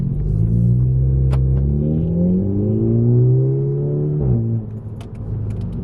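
A slammed Volkswagen engine drones steadily as the car drives, revving up and down through gear changes with a low, rumbling exhaust tone, close and continuous, with a brief dip near the end.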